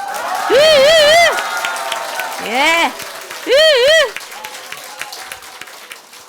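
An audience at a church evangelism festival applauds and cheers, with loud rising shouts and whoops over a steady crowd background, and a voice speaks briefly.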